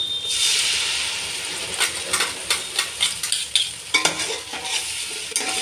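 Spicy mutton masala fries in oil, a steady close sizzle with a series of scraping stir strokes and clanks against the pan, no talking.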